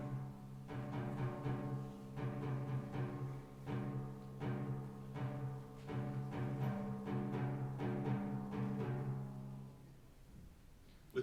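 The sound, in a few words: timpani thrumming in Beethoven's Symphony No. 5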